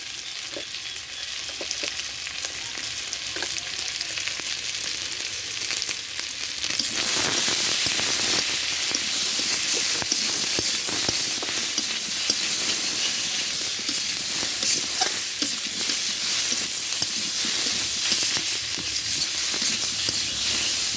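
Fish and taro root frying in a pan with chili powder and turmeric give a steady, dense sizzle and crackle, growing louder partway through and holding for the rest of the stretch, with no talking.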